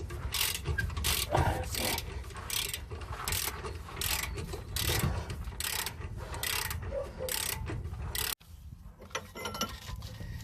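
A ratchet wrench removes U-bolts from campervan suspension, clicking in quick, evenly spaced bursts of pawl ticks, close and clear, before a sudden stop and a quieter pause near the end.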